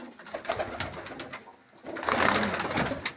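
Pigeons coo in soft, repeated throaty calls, moderately close, with a louder burst of cooing in the second half.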